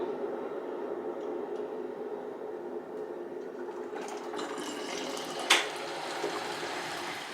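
Water running into a bubble tea preparation container from a dispenser, a steady trickling stream throughout with a brief sharp clink near the end, close and moderately loud.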